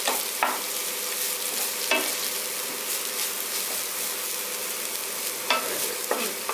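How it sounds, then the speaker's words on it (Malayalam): Grated carrot being stirred in a hot pan for a lentil dish, a steady frying sizzle broken by a few sharp spoon scrapes, close and clear with no talking. "ഇനി നമുക്കിതൊന്ന് ഇളക്കി ഒന്ന് റെഡിയാക്കി എടുക്കാം"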